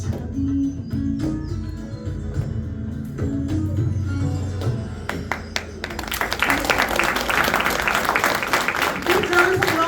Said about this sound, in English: Big round of applause for Sampath Bhai.